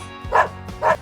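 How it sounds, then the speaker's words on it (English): A dog barks twice, close and loud, with a short pause between the two sharp barks. "Dogs say woof, woof."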